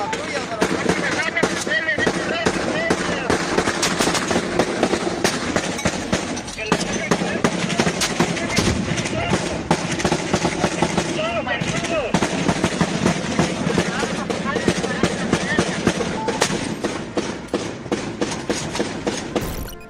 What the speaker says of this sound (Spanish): El sonido de los disparos y las explosiones demuestran el poder ofensivo del cártel.